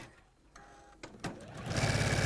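A sewing machine starts up and stitches fabric along a drawn line, a few faint clicks and knocks giving way to a rapid, steady mechanical whirring burst near the end.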